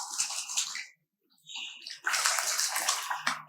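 African penguins splash and play in a zoo pool, bursts of close watery sloshing that briefly drop to silence and then return louder and continuous.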